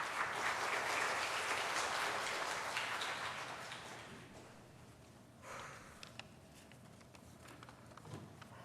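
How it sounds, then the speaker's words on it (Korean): A church congregation at a Sunday service breaks into warm, dense applause that swells for a few seconds, then tapers off into scattered claps and quiet room noise. "여러분 큰 박수로 환영해 주시기 바랍니다"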